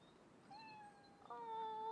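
A cat gives two short, faint meows, the second slightly louder and longer, over a quiet background hiss.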